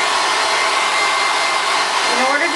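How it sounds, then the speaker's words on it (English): A handheld hair dryer blows steadily on a shirt during silk-screen printing, a loud, continuous broadband whoosh that holds an even level from start to finish with nothing else heard. "now I'm going to get my hair dryer and then just blow dry the shirt"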